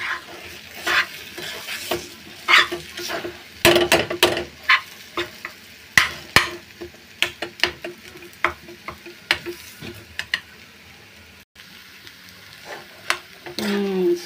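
Spoon stirring a pan of jaggery laddu mixture with cashews and raisins, irregular scraping knocks and clinks against the metal over a faint sizzle, close and distinct.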